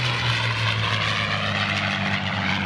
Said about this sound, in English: Followed by another example of the P-51 with yet that distinctive